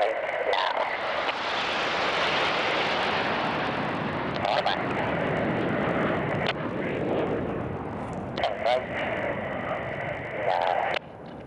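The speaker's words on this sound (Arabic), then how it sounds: "من على يمين المنصة دخول 5 طائرات، وبحركة موحدة بعد إعاز قائد الفريق تقوم الطائرات بالالتفاف المحوري في نفس الوقت" Five Saudi Falcons aerobatic team jets roar past a reviewing stand at a military show, a loud sustained rushing thunder that swells and fades, with an announcer speaking over it.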